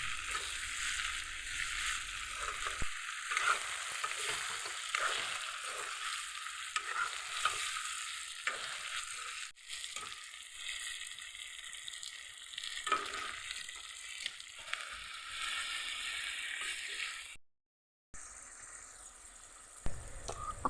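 Meat being stirred and fried in a pan for a home recipe, a steady close sizzle with scraping stir strokes throughout, a brief silent gap near the end.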